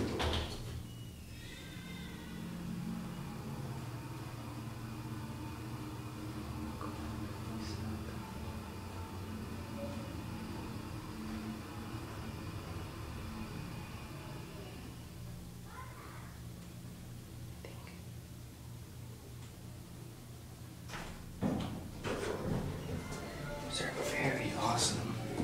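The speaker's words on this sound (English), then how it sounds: "here comes the elevator at JCPenny's" An old Montgomery elevator arriving at a JCPenney store in Westfield Mall, Escondido, California: a steady motor hum runs throughout, with door rumbles and clunks late on as the car arrives, amid faint store background.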